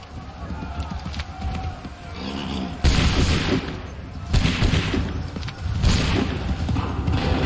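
Musket volleys crack out from ranks of soldiers in Assassin's Creed III, loud bursts of massed gunfire amid battlefield rumble, with shouted voices and hoofbeats mixed in.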